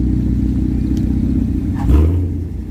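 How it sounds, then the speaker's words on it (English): A loud Chevrolet Camaro, either a Z01 or an SS, idles with a deep, rumbling exhaust at a Saturday night car meet in an IHOP parking lot, then swells briefly in a short rev. "This Z01 Camaro is loud as hell"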